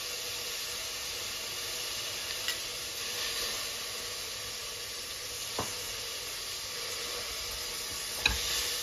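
Mint frying in a pan for paaya soup, a steady soft sizzle with a faint hiss and occasional sharp clicks of stirring, fairly quiet throughout with no talking.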